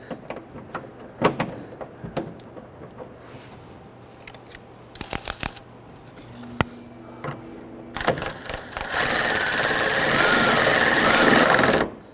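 Installing a bolt on the back side of the front fender of a 2011-2017 Nissan Quest during bumper cover replacement: scattered close clicks and taps of metal fasteners and tools, then a longer bright buzzing, whirring stretch near the end.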